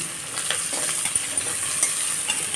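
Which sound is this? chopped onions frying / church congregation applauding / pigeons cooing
chopped onions frying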